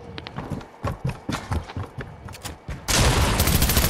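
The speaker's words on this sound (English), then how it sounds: "There's a kid shooting at us." Rapid gunfire bursts in the video game Fortnite, sharp repeated shots in quick clusters, then a dense continuous roar of fire near the end, with no talk over it.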